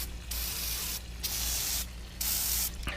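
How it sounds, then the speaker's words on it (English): Engine cleaner sprayed from a can onto a car's valve cover in the engine bay, three close, loud hissing bursts, each lasting under a second, separated by brief pauses. "and then just start spraying"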